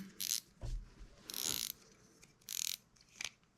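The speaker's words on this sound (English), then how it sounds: "Put your drag retention nut back on. Tighten her down." A drag retention nut is tightened down on a spinning reel during a Carbontex drag upgrade, producing several short clicking, ratcheting bursts close up and fairly faint, separated by pauses, with no talk.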